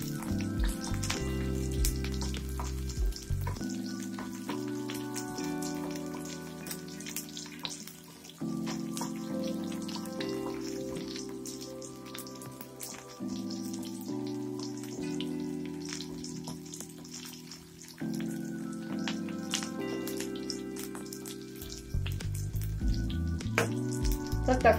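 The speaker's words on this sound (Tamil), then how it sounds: "எல்லாம் ஒண்ணா சேர்த்து நல்லா வதக்கிடலாம்." Garlic, tamarind and urad dal sautéing in a pan, giving a steady, close, crackling sizzle throughout, with background music playing underneath.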